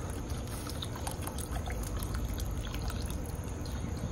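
Water pours steadily from bottles into a deep Lodge cast-iron skillet set over charcoal, a continuous splashing, gurgling rush that holds at an even level throughout, with no talk.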